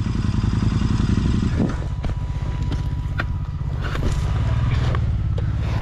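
Motorcycle engine on a dusty ride, droning loud and steady with a brief dip around a clutch shift, backed by wind buffeting and loose rattles.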